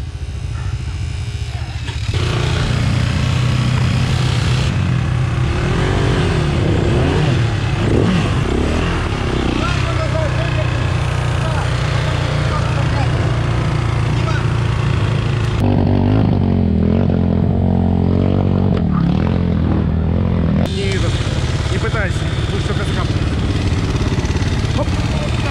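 A KTM 525 motorcycle ridden through a tunnel gives a continuous engine roar with shifting revs and echoing, boomy rumble, loud and close throughout, with a rider's voice speaking in places over the noise.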